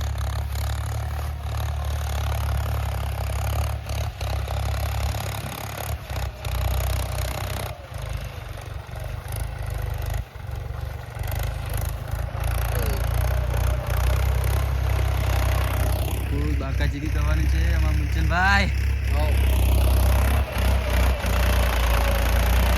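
A tractor engine runs steadily throughout with a low, continuous rumble and some clatter while working a sorghum field, and a voice speaks briefly toward the end.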